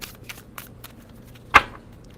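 A new deck of tarot cards being shuffled: a few soft flicks followed by one crisp riffling snap, close by and otherwise quiet.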